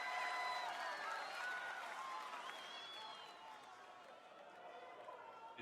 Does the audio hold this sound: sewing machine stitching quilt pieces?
no